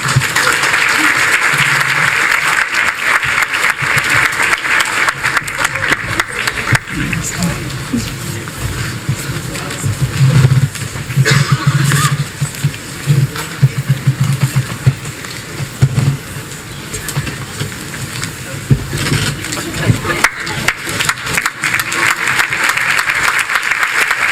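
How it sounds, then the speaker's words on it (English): Audience applause at a 2018 nursing pinning ceremony: a long, dense round of clapping from a crowd that swells, dips briefly midway and continues strong to the end, with some voices mixed in. "So how about another round of applause for our graduating class?"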